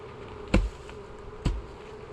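Honey bees hum softly at an open hive box on a spring day, a low steady drone broken by two short, brief bumps near the start and middle.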